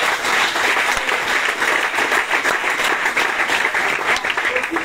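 Audience at a church anniversary service applauding steadily, a dense, continuous wash of many hands clapping close by for about five seconds without a break.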